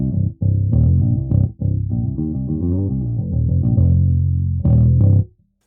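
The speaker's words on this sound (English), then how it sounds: "this is my cleanish bass sound" Cleanish bass guitar tone with slight input drive, a run of sustained plucked notes and short phrases with brief gaps, close and full, ending on a held note that cuts off.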